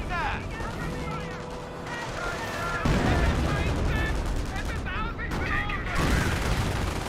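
Sniper rounds and gunfire in Company of Heroes: repeated sharp shots and bursts of small-arms fire over battlefield noise, with a voice talking throughout.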